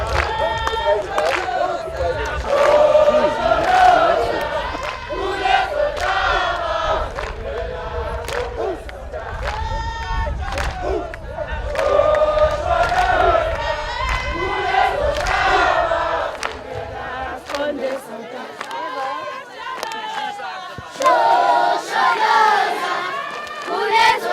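Large crowd at a stallion day parade cheering and shouting continuously, a dense roar of voices with excited yells rising and falling throughout.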